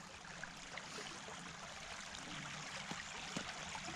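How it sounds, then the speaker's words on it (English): Steady, faint trickling and gurgling water running through a beaver dam, continuous and unbroken, heard from close by with no voices. "I don't know where all this water's running out."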